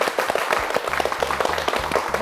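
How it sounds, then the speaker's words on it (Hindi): Audience applause breaks out at a Pakistani stage comedy show's Independence Day special, a dense, steady wash of clapping over a low, droning background for a couple of seconds. "ओके तालियां तालियां तालियां तालियां।"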